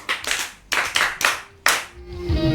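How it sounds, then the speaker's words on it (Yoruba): A group claps for a child at a children's storytelling event in about four sharp, loud bursts spaced unevenly, followed by a brief tonal voice or music at the end. "ẹ pàtẹ́wọ́ fún un"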